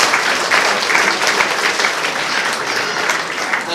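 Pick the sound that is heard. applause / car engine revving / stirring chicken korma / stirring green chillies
applause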